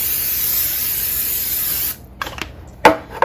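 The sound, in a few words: cooking spray sprayed onto a cookie sheet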